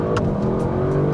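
A 2024 Audi RS 6 Performance accelerating hard uphill, its engine a loud, sustained, close roar heard from inside the car for the whole stretch, with no talking.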